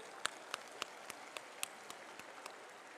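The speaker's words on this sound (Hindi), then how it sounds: "आप अपने लिए अपने सम्मान में एक जोरदार और शानदार ताली दीजिए" Audience clapping in an auditorium hall, heard as faint, evenly spaced sharp claps in a steady rhythm, fading slightly toward the end.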